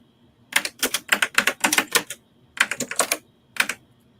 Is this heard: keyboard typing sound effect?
yes